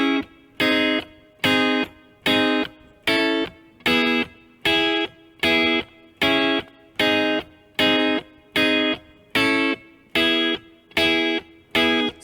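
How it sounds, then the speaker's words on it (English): Distorted electric guitar strums the verse part of a song in evenly spaced, clipped chord stabs, about one per beat, loud and close with short silences between hits. "getting into the verse section, the vocals will enter and the guitar part will sound like this."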